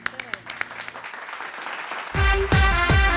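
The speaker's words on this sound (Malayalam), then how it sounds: "ഓക്കെ, കമോൺ, വലിയൊരു കൈയടി." An audience at a live card-trick magic show breaks into loud, dense clapping after scattered early claps, building into a full burst of applause over a loud voice.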